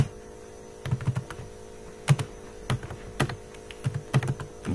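Computer keyboard keys clack in short irregular bursts while C++ code is written, close and fairly quiet over a steady mains hum, with no speech.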